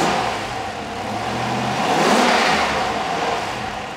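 A rebuilt Rover V8 enlarged to 4 litres runs on an engine test rig in a workshop, revving up steadily to a loud peak and easing back, with a continuous close mechanical roar and no voices.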